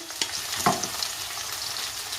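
Steady frying sizzle fills the pan, with a couple of soft clatters as potato scraps drop in and get stirred.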